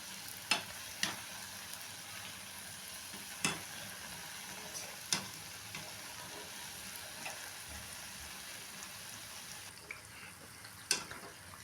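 Sweet bonda balls, an evening tea-shop snack, fry in hot oil with a steady soft sizzle, while occasional sharp taps and scrapes of turning them sound close by. No one speaks.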